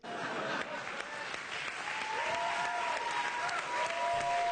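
A studio audience applauds Bill Maher, sustained dense clapping from a crowd that carries evenly throughout, with faint voices and whoops mixed into the applause.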